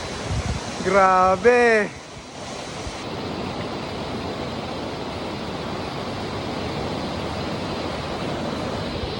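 Gabao Falls in Cabotonan, Lagonoy, sends up a steady, broad rushing roar of falling water, preceded by a short excited shout from a person nearby.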